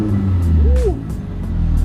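A lowered classic car at a showroom in South Jakarta idles with a deep bassy rumble and one brief rev, loud and close, with no talk over it.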